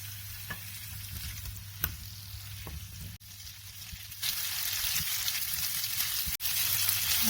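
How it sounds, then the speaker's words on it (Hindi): Taro (arvi) frying on high heat with garlic and ginger, a steady close sizzle with occasional stirring clicks and a louder surge of hiss midway. "अरवी को हमने 3 से 4 मिनट के लिए अच्छे से भुना है।"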